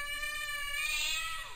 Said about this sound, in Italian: Poi gioco con Bobby e il micio.